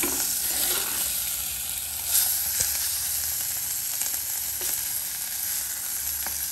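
Ingredients for a prawn curry sizzle and fry in a clay pot, a steady, close crackling hiss with occasional scraping stirs, no voices over it.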